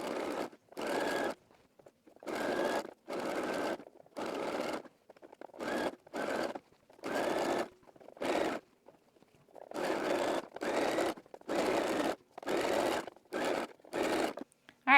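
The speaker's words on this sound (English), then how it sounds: "we're going to sew on the lining side" A sewing machine stitches the lining seam of a wrap dress in repeated short bursts, each a second or so, separated by brief pauses as the fabric is guided, close and clear.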